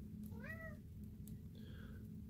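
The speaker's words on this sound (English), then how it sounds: "You may hear my cat in the background." A cat meows twice close by, a rising-and-falling call followed by a softer, shorter one, over a steady low background hum.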